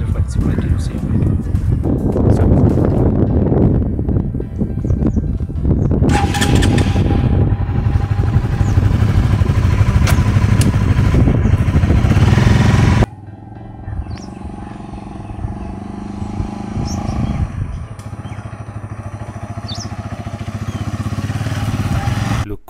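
A Honda CBR 150R motorcycle with about 60,000 km on it roars loudly with wind rush for roughly thirteen seconds, then drops to a quieter engine hum that slowly rises again.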